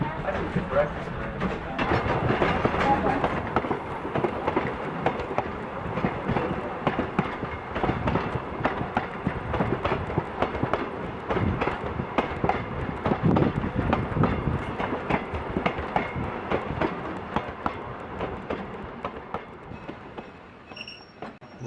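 Heritage museum train running on rails toward an old rock quarry: steady rumbling wheel noise with rhythmic clicks and clatter throughout, up close, with people talking over it.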